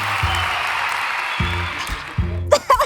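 Applause from a small group at a quiz game show pitting three women against three men, a steady broad wash of clapping that fades toward the end as voices and low thumps break in.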